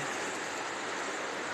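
A river rushing at night during a Christmas Eve snowstorm, heard as a steady, full broadband wash of flowing water that stays constant and fairly loud, with no voices.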